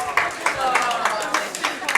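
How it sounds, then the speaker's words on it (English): A few audience members clap in a conference panel room, sharp irregular claps for about two seconds, close and fairly loud, with murmuring voices underneath. "round of applause for my friend over here"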